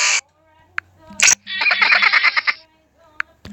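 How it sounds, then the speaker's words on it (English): Crow caw sound effect from a custom phone keyboard, a short harsh raspy burst amid clicky taps and a longer rattly chirping passage, fairly loud and close. "Crow."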